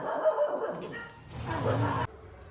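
Dogs yipping and whimpering at moderate distance, a few short high cries and barks over a faint background murmur.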